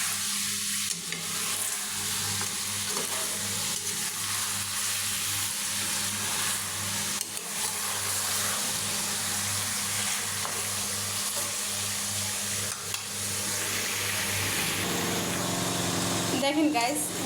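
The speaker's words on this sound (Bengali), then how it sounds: "আমি মাংসটা কষিয়ে নিলাম।" Chicken pieces being stirred in a hot pan, with steady loud sizzling and frying and scraping stirs throughout, heard close and continuous for the whole stretch.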